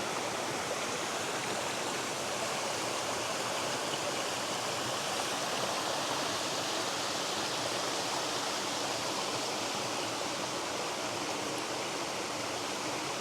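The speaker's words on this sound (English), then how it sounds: "this is a little tributary that probably feeds down into the South Fork of the Toutle River" A small mountain stream, a tributary of the South Fork of the Toutle River, rushes steadily in a dense, even wash of flowing water, close and continuous with no voices.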